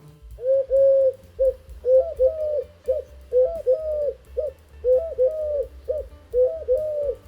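Soft, low cooing from a Eurasian collared dove repeats in steady three-part phrases, each a few hollow notes, close and clear with a faint low background rumble.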